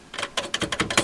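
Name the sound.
Commodore 64G keyboard keys being typed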